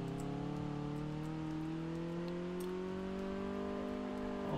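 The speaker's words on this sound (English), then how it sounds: "Flying down the straight, and it seems to accelerate fairly quickly." Toyota Celica GT-Four engine in Car Mechanic Simulator 2018, a steady, loud drone rising gradually in pitch as the car accelerates down a straight.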